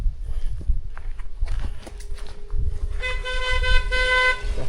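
A car on a mountain road in Jamaica drives past over background rumble and footsteps, then sounds its horn in a few short toots near the end.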